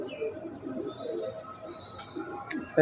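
Rampuri Chandrakhani pigeons, an old breed brought from India, give soft low coos in a loose rhythm, with a few faint higher chirps over quiet background noise and no voices.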